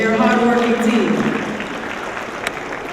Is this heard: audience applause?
yes